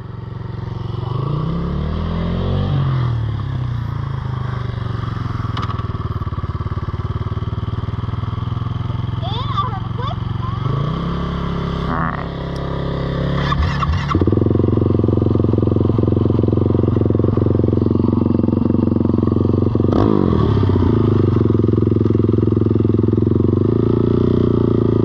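A 2021 Kymco Mongoose 90 mini ATV engine drones close by throughout, being broken in, pitch rising and falling as it rides around, with a louder steadier stretch in the second half.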